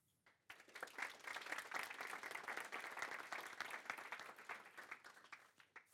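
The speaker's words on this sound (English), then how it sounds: "Welcome Joakim with an applaud." An audience applauds a speaker at a software development conference, a dense, sustained wash of clapping from a full room that starts abruptly, holds strong, then gradually thins out.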